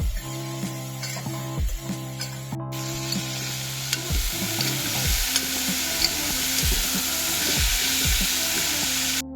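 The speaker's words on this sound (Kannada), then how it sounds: "ಒಂದು 5 ಮಿನಿಟ್ಸ್ ಆಯಿಲಲ್ಲಿ ಫ್ರೈ ಮಾಡ್ಕೋಬೇಕು." Frying and stirring in oil while making jackfruit seed gravy, a continuous close sizzle broken by regular scraping strokes of a spoon across the pan, fairly loud and steady without talking.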